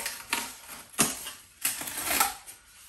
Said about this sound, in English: I've just broken the insulation.